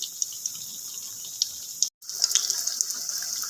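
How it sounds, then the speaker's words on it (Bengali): Batter-dipped bread and potato rolls fry in hot oil, a thin hissing sizzle with small bubbling pops, broken by a brief moment of silence before the crackle resumes a little louder. "আমি এবার তেলের মধ্যে সেই রোলটাকে ওই ব্যাটারটার মধ্যে একটু চুবিয়ে তেলের মধ্যে দিয়ে দিয়েছি"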